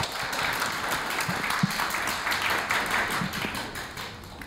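An audience at a university commemorative lecture applauds to welcome the guest speaker, steady sustained clapping filling the room for several seconds with a few louder taps standing out.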